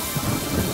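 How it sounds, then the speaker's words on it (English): Dense, steady hiss of rainfall with a low rumbling undertone of thunder in the video game Yonder: The Cloud Catcher Chronicles, brief and continuous with no speech. "it's foggy as it's raining"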